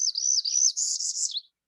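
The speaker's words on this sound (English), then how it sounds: "This warbler has a rising trill that drops at the end." A warbler in a Maryland forest sings a high, clear trill that rises and holds, then dips lower at the very end, heard alone and fairly close.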